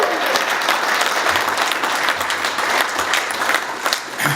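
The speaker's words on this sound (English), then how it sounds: "So I think that deserves a round of applause." A full room breaks into a sustained round of applause at a corporate awards night, dense steady clapping with a few cheers, loud and close, fading slightly at the end.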